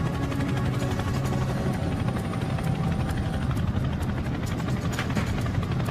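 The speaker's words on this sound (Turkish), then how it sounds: "Denize açılmış olan Mark Holbrook, alçaktan uçan iri bir helikopterin sesini duyuyor." A large Chinook helicopter flies low overhead, its twin rotors thudding loudly and continuously with a heavy, buzzing engine drone.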